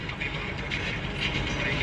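A train rumbles past with a steady, dense mechanical roar and faint rattling, loud and continuous throughout, with no clear voices.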